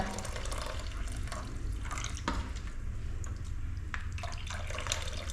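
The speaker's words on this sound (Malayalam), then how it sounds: "തേങ്ങാപ്പാൽ ഇങ്ങനെ ഒഴിക്കും." Coconut milk pours and splashes steadily into a vessel, with a few soft clinks and drips along the way.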